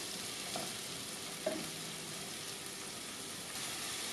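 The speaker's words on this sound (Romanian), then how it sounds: "Peste ceapă punem o linguriță cu sare și amestecăm." Chopped onion with a teaspoon of salt frying in a pan, a steady soft sizzle throughout with a couple of faint stirring clinks near the start and middle.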